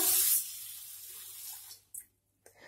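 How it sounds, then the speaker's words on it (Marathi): Water splashes from a tap onto unpolished urad dal in a bowl, a loud gush for a moment that fades to a soft trickle, followed by a couple of faint taps. "यामध्ये पाणी घालूया"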